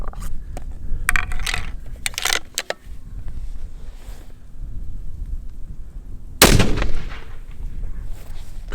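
Sharp rifle shots from a custom 300 WSM crack out at an outdoor range during load development, several loud isolated reports spread over a few seconds, with one especially heavy blast near the end and no talk.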